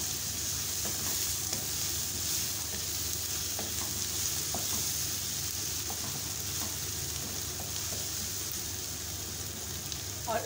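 Ginger and green chillies sizzle steadily in a pan with softened tomatoes, a continuous bright crackle with occasional stirring scrapes, faint and close.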